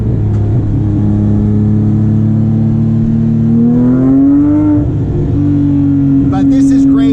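A Porsche 997.2 GT3 RS flat-six with aftermarket exhaust hums steadily inside the cabin, then its pitch climbs as the car accelerates before settling again, loud and close under a man's speech.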